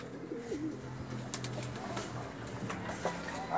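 Pigeons coo softly in a racing pigeon loft, low repeated throaty calls over faint background rustling and small clicks, fairly quiet and steady.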